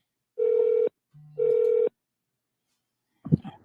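Two steady telephone dialing tones sound one after another while a call is placed, clear and close, followed by a short burst of handset noise.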